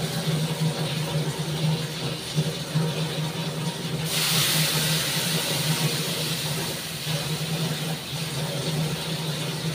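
Panch phoron spices sizzle in hot oil, a steady close hiss that swells louder midway and keeps going, with light talk under it.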